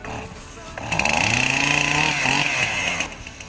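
A chainsaw revving loudly in a backyard, its engine climbing to a steady buzzing whine for about two seconds before dropping back to idle.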